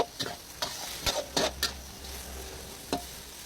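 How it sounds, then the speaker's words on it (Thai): Wide rice noodles for drunken noodles are stir-fried in a pan over high heat. A spatula scrapes and clacks in a few quick strokes against a soft, steady sizzle, with no talking. "แล้วก็ผัด ผัด ให้เข้ากัน ผัดให้เข้ากันนะแก เปิดไฟแรงได้เลยนะ"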